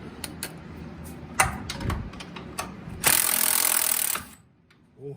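Scattered clicks and knocks, then a Milwaukee power tool whirs loudly for just over a second before cutting off.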